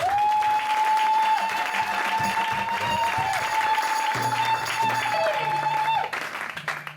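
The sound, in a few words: applause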